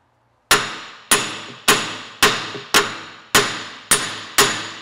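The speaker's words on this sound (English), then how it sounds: "So we're going to take my hammer here." A hammer strikes a Jeep Cherokee rear suspension part eight times in an even rhythm, each a sharp, loud metallic clang with a short ringing decay, close by and with no talk.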